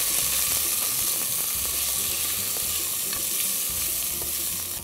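Chopped garlic and ginger juliennes fry on a high flame, giving a loud, continuous sizzle with clattering stirring strokes of a utensil against the pan, and no one speaks.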